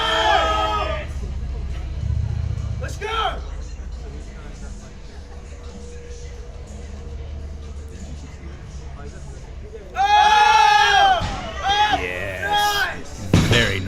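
At a weightlifting session, the crowd murmurs quietly for a while, then breaks into loud shouts and cheers behind a lifter near the end.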